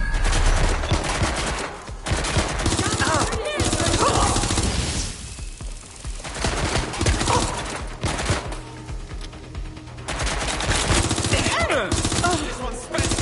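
Video game gunfire on PS4 pours out in dense, loud bursts of rapid shots, nearly continuous with a few short lulls between volleys.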